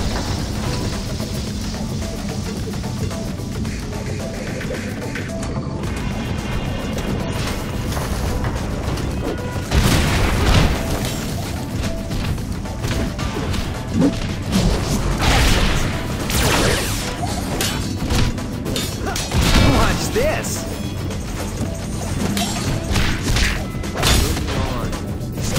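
Shield generators are smashed in the TMNT Out of the Shadows video game, a loud continuous barrage of crashes, thuds and booming impacts with game music and effects, repeated heavy hits recurring across the stretch.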